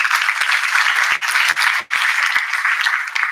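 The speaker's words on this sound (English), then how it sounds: "with a huge round of applause" Audience applause at a college engineering welcome function, a brisk, dense round of clapping from a large crowd, steady throughout with a couple of momentary dips.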